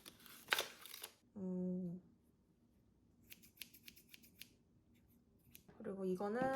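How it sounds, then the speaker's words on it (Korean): Cheap scissors with silicone handles open and snap shut in a few crisp, close metallic clicks, separated by quiet gaps and a short run of small taps, while a voice hums or speaks briefly in between. "이거는 가위. 특별한 건 없고 그냥 저렴하고 손잡이가 실리콘으로 돼 있어서 이거 사왔습니다."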